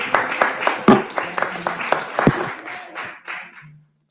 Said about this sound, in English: Ms. Moore, I think that applause indicates performance, having been brought to the Rules Committee